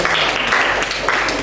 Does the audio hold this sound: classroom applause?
yes